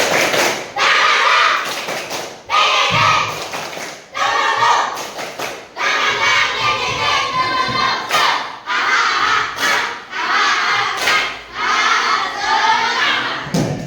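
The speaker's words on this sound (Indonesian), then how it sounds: "Tepuk semangat." A group of schoolchildren doing a spirit clap, with loud rhythmic bursts of clapping and shouted chanting in repeated phrases, separated by short pauses.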